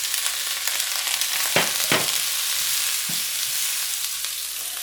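Broccoli and minced garlic stir-fry in a hot pan for a beef udon noodle dish, a steady close sizzle broken by a few sharp scrapes of stirring.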